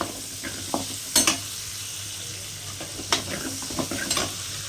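Country chicken curry ingredients sautéing in a pan, with steady close sizzling and a few sharp stirring scrapes and knocks of a utensil against the pan.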